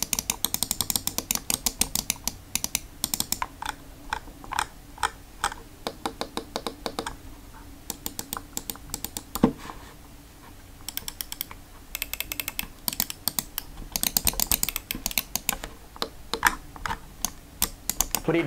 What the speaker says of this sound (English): And I'll show you the actual click sound of this.